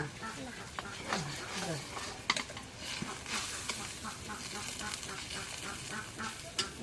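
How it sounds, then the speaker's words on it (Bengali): Home-raised chicken curry with ginger paste is stirred in a cooking pot, making faint scraping and soft sizzling strokes in an irregular rhythm, with muffled voices in the background. "এখন নাড়া দিই, মানে নাড়া দাও তুমি"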